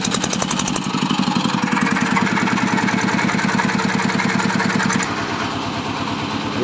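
A Yanmar engine runs on test, driving belt pulleys of 8 and 5 inches. It holds a steady, close, rhythmic chugging throughout, and the note shifts slightly near the end.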